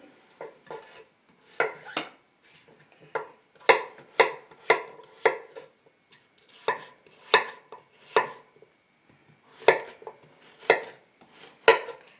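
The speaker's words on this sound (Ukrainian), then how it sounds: "Нарізаємо кабачок" Zucchini being diced into cubes with a knife on a cutting board, a series of close, crisp knife strikes in irregular bursts of two to four chops, with short pauses between them and no talking.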